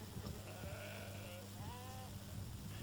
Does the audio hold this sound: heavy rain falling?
no